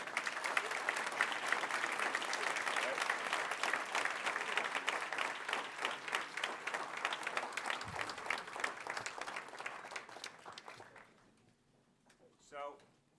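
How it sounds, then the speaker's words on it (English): Sustained audience applause at a city procurement fair as a trio stands to be recognized, steady dense clapping for about eleven seconds before it dies away into near silence. "you have to stand and receive applause as a power trio"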